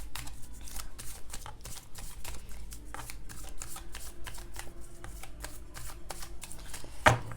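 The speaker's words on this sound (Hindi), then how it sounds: "जब तक मैं कार्ड शफल कर रही हूँ" Tarot cards are shuffled continuously at close range, a rapid run of riffling flicks and soft slaps over several seconds, ending with a sharper tap, with no talk.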